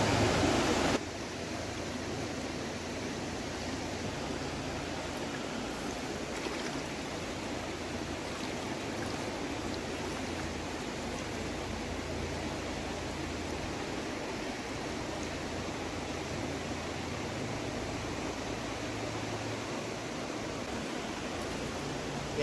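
Fast-flowing river water rushes steadily and fairly loud beside a rocky fishing spot in New England, a constant broadband wash with no voices over it.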